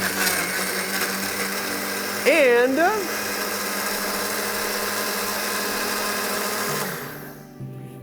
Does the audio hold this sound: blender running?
yes